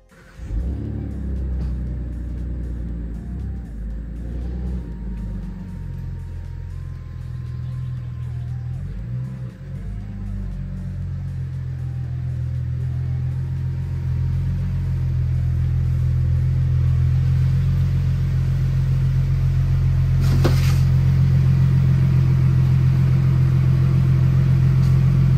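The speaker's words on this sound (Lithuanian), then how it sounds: "varom Mustangą į garažą" A Ford Mustang engine rumbles steadily as the car is driven into a garage, a close, continuous low drone that slowly grows louder and fuller.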